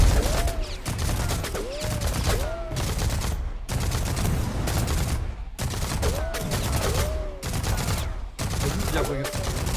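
A ship in a video game fires its weapons in rapid bursts of repeated shots, loud and close, broken by short pauses, with whooshing effect sounds running through.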